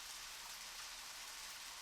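Steady rain in the video game Deadly Premonition, a continuous even hiss of falling drops with no talk over it.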